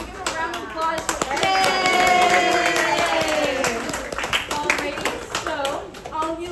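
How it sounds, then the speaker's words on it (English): An outdoor painting-class audience claps together for a few seconds, a steady patter of hands swelling and fading while a voice carries over it and cheers rise briefly in the middle. "can we give a round of applause for"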